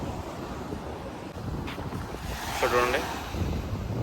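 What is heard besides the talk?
sea waves at Salmiya seaside, Kuwait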